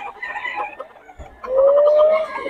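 Gamefowl roosters cluck and call at a Bocaue market, with a close, loud rising crow-like cry in the second half over softer fowl chatter.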